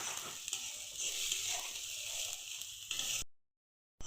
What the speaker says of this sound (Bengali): পেঁয়াজগুলো অল্প নেড়ে চেড়ে নেব, ভাজা হয়ে গেছে প্রায়।